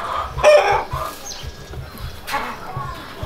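Chickens cluck and a rooster crows at a small farm in Kinshasa, Congo, in close but intermittent bursts under background voices.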